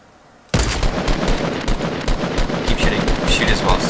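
Fortnite battle royale gunfire, a sudden burst of rapid automatic shots that keeps going in dense bursts after a quiet start, with players talking over it.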